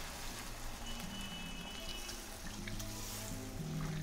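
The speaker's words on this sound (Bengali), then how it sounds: "আমি এবার একটু গরম জল দিয়ে দেব" Hot water poured into a cooking pan of jackfruit kalia curry, a quiet continuous splashing trickle that holds steady for a few seconds against a low background hum.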